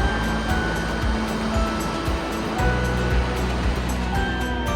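Rushing water in the Wadi Mujib canyon in Jordan, a steady, loud broadband roar of flowing water that stays constant throughout with no voices.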